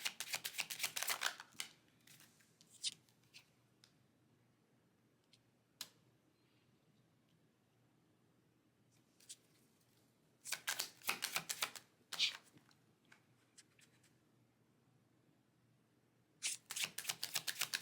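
Tarot cards are shuffled and drawn in quick riffling bursts of crisp flicks and snaps, separated by long quiet pauses, close and fairly soft.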